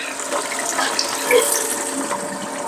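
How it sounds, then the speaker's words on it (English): A rapid beverage chiller spins a can in ice-cold water, giving a steady, close churning and sloshing rush that holds level throughout without speech. "It just rotates that, it cycles that ice cold water all over the can and spins it."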